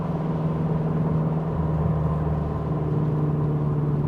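Engine of a 2022 Subaru WRX holds a steady low drone around 2,500 RPM, a constant hum heard from inside the car, moderately quiet and without speech.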